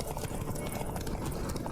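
Roach, Geralt's horse in The Witcher 3, gallops with rapid, dense hoof clip-clop beats inside a busy game soundscape, brief and steady.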